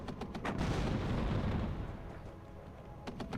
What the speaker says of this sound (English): Abrams gets the first shot off.